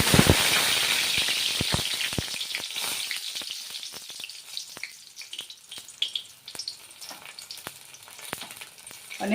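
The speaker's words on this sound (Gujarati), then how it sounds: "ત્યારબાદ 2 લાલ મરચાં એડ કરીશું." Two red chillies sizzle and crackle in hot oil for a tadka for Kathiyawadi dhokli curry, a dense frying hiss that crackles close and loud at first, then settles into scattered pops and spits.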